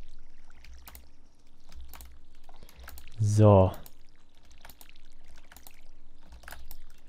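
Watering crops with a watering can in the farming game Stardew Valley: one short splashing pour of water, brief and clear, with someone speaking over quiet background music.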